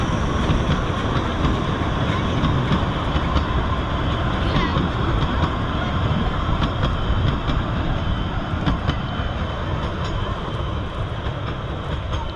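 An over-100-year-old locomotive train rumbles past through woods, a steady, loud, continuous roar of rolling wagons with faint rhythmic clatter throughout.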